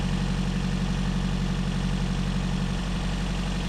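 Steady, unbroken drone of the Ecotec petrol engine in a 2014 Chevy Volt running with a secondary ignition misfire, a close, even idle hum with no voices.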